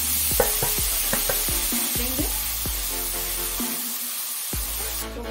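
Grated khoya roasted over a medium flame in a pan or kadhai, a spoon scraping and knocking the metal in a steady series of close, sharp strokes over a continuous soft sizzle.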